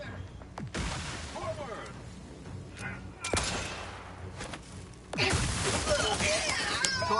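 Gunfire and a grenade blast in The Outer Worlds 2 video game: sharp shots crackle around a loud burst near five seconds, followed by sustained crashing, with voices speaking over the fighting.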